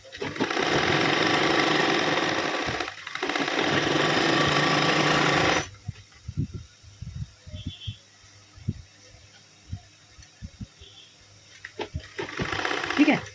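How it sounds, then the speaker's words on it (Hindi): A sewing machine stitching a salwar runs in a loud, steady whir for several seconds, pauses briefly, then stops while cloth is handled with quiet clicks and rustles, before starting up again at the end. "अब इस पर सिलाई लगा देंगे।"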